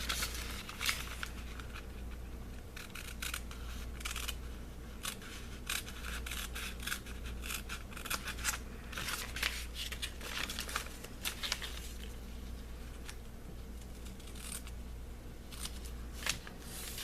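Scissors snip steadily along traced lines of a paper pattern for a felt fez, close and crisp, with repeated short cuts and faint paper rustle between them.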